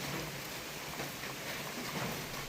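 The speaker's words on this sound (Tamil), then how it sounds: "நல்லா மழை பெஞ்சிட்டு இருந்தது" Heavy rain pours down at night over dense jungle near a forest watchtower in Periyar, a steady, dense roar of drops with no breaks and no voices.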